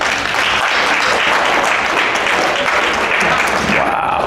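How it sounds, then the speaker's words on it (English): A comedy club audience breaks into loud, sustained applause that fills the room evenly from start to finish, with scattered cheers mixed into the clapping. "Clap if you've been married over 50 years."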